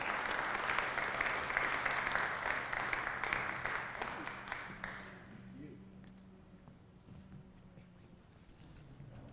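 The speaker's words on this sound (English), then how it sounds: "Can we have a round of applause for Ken?" A crowd applauds steadily at a musical instruments event, then the clapping fades into scattered claps and room murmur.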